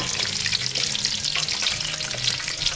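Pork skin chicharon frying in a pan, stirred: a loud, dense crackling sizzle heard up close, continuous, with faint scraping of the stirring underneath and no voices.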